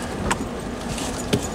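Steady rumble of a car on a rough, bumpy road, with a couple of sharp knocks and rattles of things shaking inside the cabin, and no talking.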